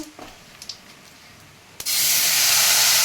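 Blended paste of cashew, poppy seed, melon seed and sour yogurt hits hot oil, a quiet kitchen suddenly erupting into a loud, steady, close sizzle that holds to the end after a few small clinks.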